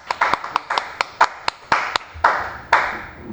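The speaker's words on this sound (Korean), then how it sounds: "자, 박수." A small class in a drafting lesson claps, with about a dozen sharp, separate hand claps in an uneven rhythm that are close and fairly loud.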